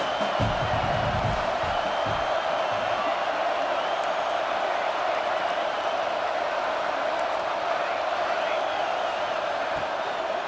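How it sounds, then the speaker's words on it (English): A packed home stadium crowd roars steadily in a college football video game, a dense continuous wall of cheering that holds loud for the whole stretch with a few low thumps near the start. "Man, this crowd really affecting the football game."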